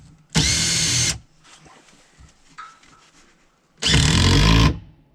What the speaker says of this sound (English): I gotta tighten down one bolt over here behind us.